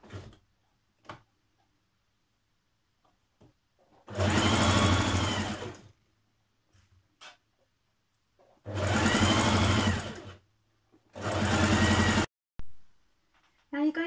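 A sewing machine stitches the central part of a Simplicity 8546 shirt dress in three loud, close bursts of a few seconds each, with quiet handling sounds between them.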